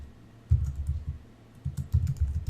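Keys on a computer keyboard are typed in quick irregular runs with a brief pause in the middle, producing soft, close, muffled thuds and clicks with no voices.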